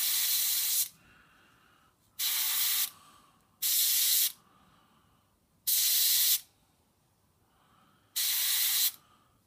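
Airbrushed Vallejo chipping medium hisses through a Scotch-Brite pad onto a scale model in five short, even bursts separated by quiet pauses, each spray close and loud with a steady airy rush.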